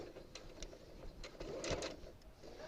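A sewing machine stitches quilt binding toward a corner, running slowly with soft whirring and faint clicking mechanical ticks, fairly quiet and close, without talking.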